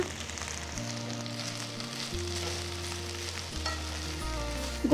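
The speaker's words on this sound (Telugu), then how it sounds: "ఇప్పుడు మెంతాకులు వేసి అంతా కలిపి వేయించాలి" Mint, coriander and fenugreek leaves fry in sesame oil in a pan, giving a continuous close sizzle with stirring and scraping throughout. No voice is heard over the frying.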